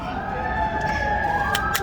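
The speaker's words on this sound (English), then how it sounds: "I'm gonna pause for the sirens." Emergency vehicle sirens wail steadily at a #FreeBritney street rally, a sustained, fairly loud tone with a rising sweep at the end over the surrounding street noise.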